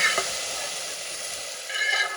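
A hot spice tempering meets pakora kadhi with a brief, steady sizzling hiss that swells slightly louder toward the end, close and without talk.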